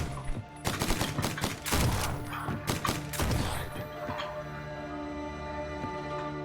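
Tommy gun fire in a horror adventure video game, a burst of rapid, sharp shots with thuds and crashes over the first few seconds, then fading to quiet background ambience.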